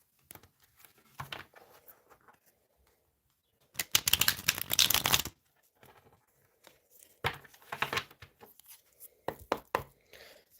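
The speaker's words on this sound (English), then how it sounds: "One more shuffle." Crisp, brisk riffling and slapping of tarot cards in short bursts, with quieter shuffling between them, close by and with no talking.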